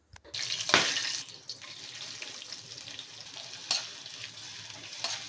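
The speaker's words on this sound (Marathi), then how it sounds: "कढईमध्ये तेल टाकून खडा मसाला आणि हिरवी मिरची टाकावी व त्यामध्ये कांदा परतून घ्यावा." Whole spices, green chilli and onion sautéing in hot oil in a pan for biryani, a steady low sizzle with a few louder bursts and stirring noises, no voices.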